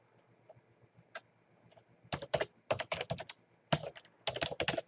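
Bursts of close typing on a computer keyboard, quick clustered keystrokes arriving in two or three flurries after a few isolated clicks, in a quiet room.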